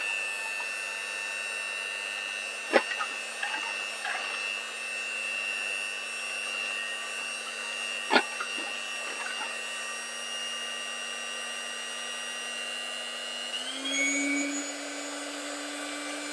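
An electric mixer whirs steadily on a slow setting, beating a jelly mixture for ricotta parfaits, a continuous close motor hum with a couple of sharp knocks before the pitch rises slightly near the end.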